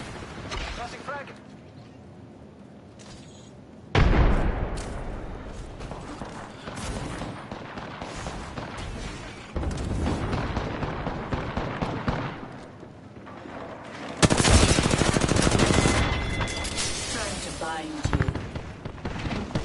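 Gunfire crackles in an Apex Legends fight, with bursts of shots, loud explosive blasts and frag-like booms against a wall, while a player talks over the action throughout.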